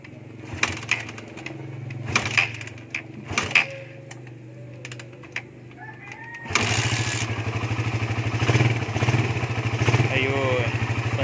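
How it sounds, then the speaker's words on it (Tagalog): An overheating Suzuki Raider R150 motorcycle engine idles with a rapid, steady putter after a few clanks and knocks, running continuously and close by during an oil pump check. "papandarin mo natin ulit yung motor saglit"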